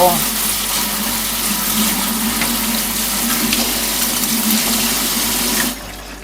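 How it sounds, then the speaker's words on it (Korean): Cold tap water runs steadily into a kitchen sink as fatsia shoots are rinsed, a loud, continuous close-up splash and hiss that cuts off abruptly near the end. "찬물에 이렇게 헹금을 해주시고"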